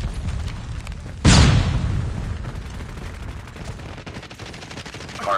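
A flashbang grenade goes off loud and sudden in a Call of Duty Mobile Hardpoint ranked match, followed by steady rattling gunfire that runs on under the game's din.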